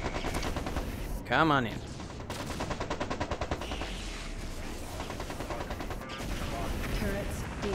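Mechs in MechCommander 2 firing at turrets, a sustained rattle of rapid automatic shots joined by a sweeping electronic effect. Someone speaks over the fire.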